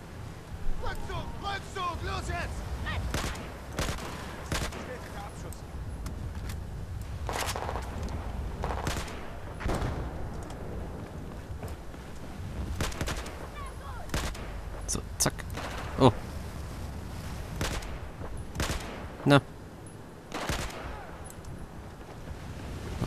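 Gunfire in the video game Battlefield 4, repeated irregular gunshots and heavier booms over a rumbling battle ambience for over twenty seconds, with someone talking intermittently over it.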